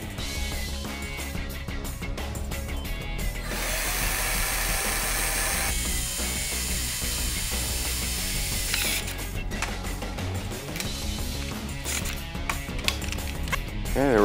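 A power drill boring holes for a Honda Goldwing front fender extension: a steady, loud, continuous whirring and grinding with shifting pitch for the full stretch, close up and alone.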